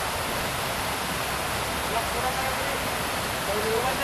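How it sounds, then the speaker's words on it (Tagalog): A flowing stream rushes in a steady, unbroken wash of broadband noise, close and moderately loud for the whole stretch. "Sapa pa rin."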